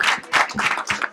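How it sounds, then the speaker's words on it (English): A room of meeting attendees applauds in a brief, irregular burst of claps, moderately loud and close, with no talk over it. "Let's all give Kim a huge round of applause, by the way."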